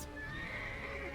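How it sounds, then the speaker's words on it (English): Horse neighing in the video game Final Fantasy XVI, a single short whinny heard faintly under a dense layer of game sound. "The horse."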